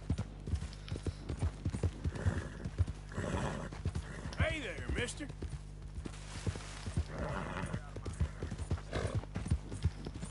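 Horse hooves clip-clop steadily while riding in the video game Red Dead Redemption 2, with an occasional snort or whinny. A voice talks over the hoofbeats throughout.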